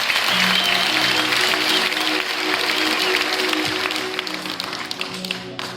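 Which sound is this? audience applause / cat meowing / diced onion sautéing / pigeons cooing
audience applause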